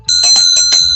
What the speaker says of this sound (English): I should ring the bell again.